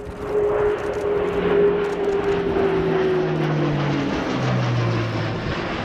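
An Airbus A400M Atlas military transport turboprop performing a steep pull-up during an air show display, a loud sustained propeller drone with falling engine tones as it climbs away.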